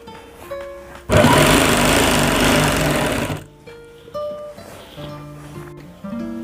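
A sewing machine runs in one steady loud burst of about two seconds, stitching pleats into a Patiala salwar, with quieter handling noises before and after.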